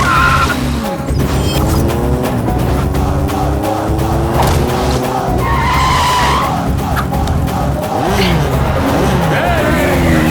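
A motorbike speeds and skids during a film chase, with loud continuous engine roar, squealing tyres and dense action sound effects, mixed with background score and shouting voices.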